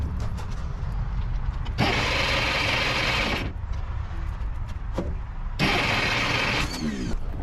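A Case 530 Construction King forklift engine cranks in two long, loud, grinding bursts of roughly two seconds each, separated by a short pause, without catching.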